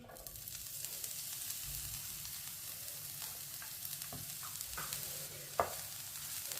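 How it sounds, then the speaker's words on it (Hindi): Chopped green onion frying in a pan of hot oil, giving a steady soft sizzle with faint stirring scrapes and a sharp clack near the end. "बारीक कटा हुआ सब्ज प्याज डालेंगे।"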